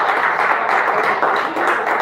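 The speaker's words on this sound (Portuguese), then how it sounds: "Vamos aplaudir Jesus bem forte." A church congregation applauds loudly in worship, a dense, steady wash of many hands clapping together that is close and sustained without a break.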